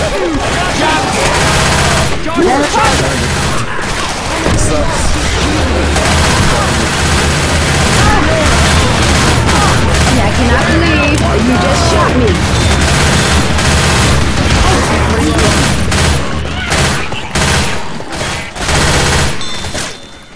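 Dense gunfire during a cooperative Left 4 Dead 2 zombie match, with loud continuous bursts of automatic and rapid shots layered over one another throughout, while players talk under the shooting.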